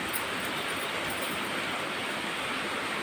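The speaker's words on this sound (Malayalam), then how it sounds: "നമ്മുടെ ഇവിടെ ഭയങ്കര പെരുമഴ" A downpour at night, a constant, thick wash of falling rain that stays level throughout, with no one talking.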